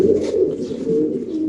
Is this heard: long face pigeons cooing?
yes